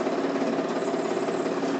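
A tractor engine running steadily while driving slowly with a loaded trailer, a constant mid-low drone heard up close, fairly quiet and unchanging.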